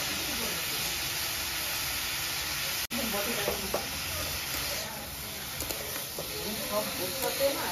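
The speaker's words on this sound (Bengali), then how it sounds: "ভাজা হয়ে গেছে, জল ছেড়ে দিচ্ছে।" Bottle gourd frying in ghee for a milk pudding, giving a steady broadband sizzle and hiss close up, with a brief dropout partway and faint stirring clatter later.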